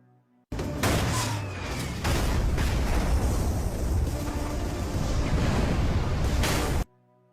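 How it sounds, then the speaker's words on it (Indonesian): A rocket launches and explodes during an action-film shootout, a sudden loud blast that swells into a sustained rumbling roar with crackling debris before cutting off sharply. "Anak buah Rias yang masih hidup berusaha menembak roket kepada Singham"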